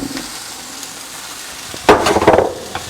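Carrots and celery are tipped into a pot of frying onions, setting off a loud burst of sizzling and clattering for under a second after a quiet start.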